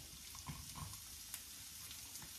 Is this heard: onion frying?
yes